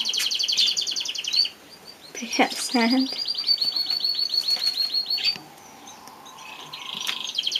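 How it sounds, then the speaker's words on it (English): A canary chirps and trills in an aviary, with a rapid run of bright notes in the middle and quieter calls before and after, close by. A voice speaks briefly. "It's one canary."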